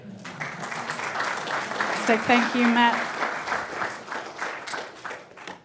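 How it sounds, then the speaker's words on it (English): Audience at a UK-US space collaboration symposium applauding, a burst of clapping sustained for several seconds, with a brief spoken thanks over it. "So I just want to ask one more round of applause for all our fantastic lightning talk speakers today"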